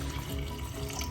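Water is poured into a pot of potato curry, giving a steady, close rushing splash that runs unbroken for about a second.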